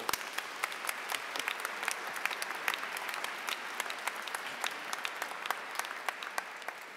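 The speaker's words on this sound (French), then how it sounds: "Applaudissons pour elle." A congregation applauds during a Sunday Mass for the seventh Sunday of Easter, a dense, continuous patter of many hands clapping, fairly soft and distant, with no talk over it.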